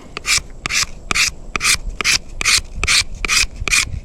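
Rhythmic rasping strokes of a blade shaving wood along a sourwood arrow shaft, about nine even scrapes in quick succession, close and loud with no talking.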